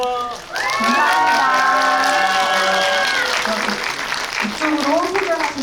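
An audience applauds at a stage greeting for a film screening, a dense wash of clapping with cheering voices rising over it.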